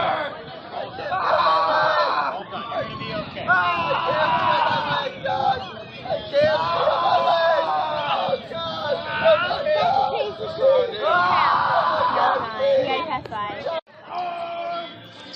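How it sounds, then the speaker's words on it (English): Large crowd at the Narcoossee Mill battle reenactment, a dense steady murmur of many voices with occasional shouts, close and continuous throughout. "It's a huge crowd here for this operation"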